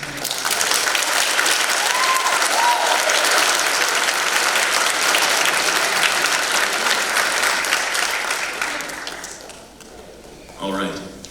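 A senior-celebration crowd gives a graduating senior a sustained burst of loud applause that fades toward the end, followed by a brief voice.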